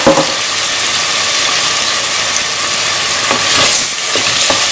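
Onions and tomatoes sautéing in hot oil for a Goan-style meat dal, a loud, steady close sizzle with a few faint scraping stirs toward the end and no talking.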